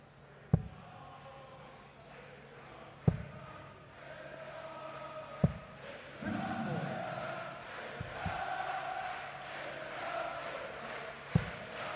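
An arena crowd at a darts final in the PDC European Darts Grand Prix keeps up a steady chanting roar that swells partway through, with occasional sharp thuds standing out above the noise.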